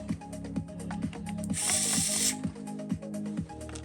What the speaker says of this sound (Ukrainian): Ось наша супер-мега крута викрутка.